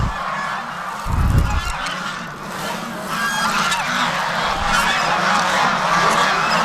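Farm-raised geese honk repeatedly in a noisy flock, overlapping calls near and far, with a brief low thump early on.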